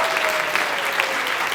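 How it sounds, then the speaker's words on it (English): An audience at a medical school variety show gives a brief, dense round of close applause, steady clapping from many hands with no talk over it. "Give him a round of applause, please,"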